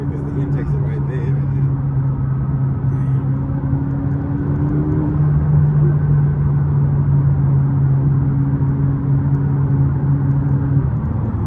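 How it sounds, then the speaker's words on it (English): A McLaren 570S Coupe's turbocharged engine drones steadily and loudly throughout, with strong low harmonic tones and a continuous rumble, while people talk over it. "you can hear the turbos go"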